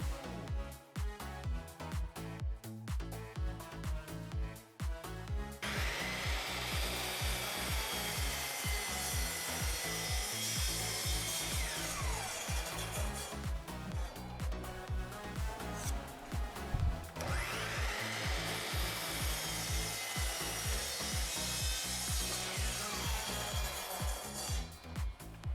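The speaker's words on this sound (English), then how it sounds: "I cut the pieces to size using my miter saw." A miter saw slices wood pieces to size in two long, loud cuts, each a sustained whining rasp up close, separated by quieter handling and knocking of the wood.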